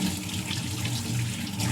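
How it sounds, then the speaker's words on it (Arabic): Hands are washed under a running water tap, a steady close splash and trickle of water into a sink that continues without pause and without any talking. "اسمحوا لي نغسل يديا."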